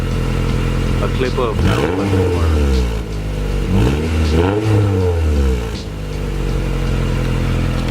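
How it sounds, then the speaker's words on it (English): A Honda GSR engine with an imported Japanese exhaust revs up twice, the pitch sweeping up and falling back between a steady loud idle, with someone talking over the engine. "rev it a little bit so they could hear how it sounds now"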